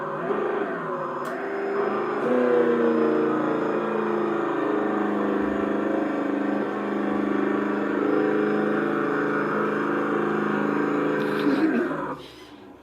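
A Traxxas TRX-6 RC truck fitted with tank tracks drives with its front diff locks unlocked: a continuous whirring motor and gear whine, steady and close, fading out abruptly near the end.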